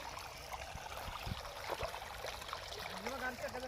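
Irrigation water trickles and gurgles steadily through furrows in a garlic field, a continuous close wash of flow with scattered splashes and a faint voice in the background.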